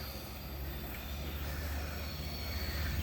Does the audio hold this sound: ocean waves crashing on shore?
no